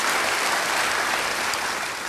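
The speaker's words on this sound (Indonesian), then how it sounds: "Beri tepuk tangan sekali lagi bagi dia." A church congregation claps together after a sermon, with dense, sustained applause that fills the room evenly and fades slightly toward the end.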